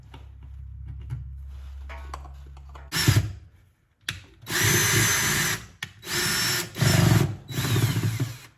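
A power drill whirs in several short bursts of a few seconds each, separated by brief pauses, while an outdoor Wi-Fi access point is mounted on a wall, loud and close.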